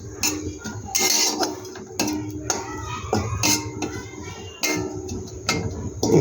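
Dried fenugreek leaves roast in a dry kadai for an oil-free chicken dish, a spatula knocking and scraping the metal in sharp, repeated clinks roughly every second, close by with no voices.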